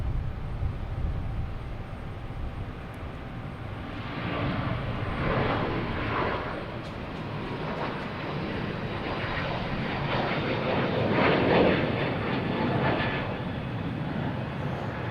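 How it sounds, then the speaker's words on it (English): Delta Airbus A321neo taking off at Boston Logan, a broad jet engine roar swelling and rumbling at moderate distance, steady with slow surges and no talk. "we got a Delta taking off, heading to Seattle, A321 Neo, flight 324"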